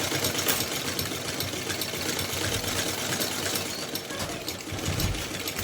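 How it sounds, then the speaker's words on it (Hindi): A sewing machine stitches elastic onto a small Laddu Gopal dress, giving a steady, dense mechanical whir that runs without a break from start to finish. It sounds close and even, with no talk. "इस तरह से खींचकर हम इलास्टिक पर सिलाई लगाएंगे"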